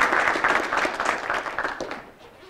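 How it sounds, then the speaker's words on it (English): A tech event audience breaks into applause, a dense burst of many hands clapping that fades away within a couple of seconds. "So a round of applause for Arthur Hoffman."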